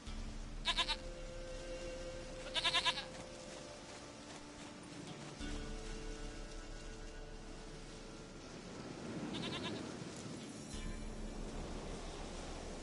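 A goat in The Witcher 3 bleats in a few short, nasal calls spaced apart, over quiet ambient background noise of the game world.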